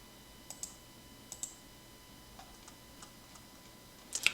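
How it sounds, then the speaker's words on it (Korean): A computer mouse clicks while working through Excel options: a handful of faint, sharp single and double clicks spaced irregularly over quiet room noise. "고급에서 클릭 한번 해보시겠습니까?"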